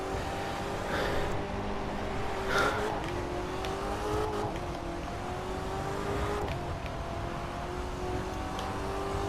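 A car engine in The Crew 2 racing game revs hard against the rev limiter, a sustained buzzing drone with wavering pitch and a few sharp bursts, steady and fairly loud with no talk.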